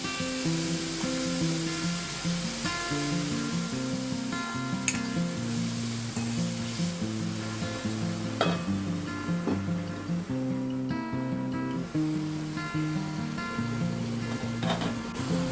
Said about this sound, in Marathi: आता आपण कांदा जरा कोमवून घेऊया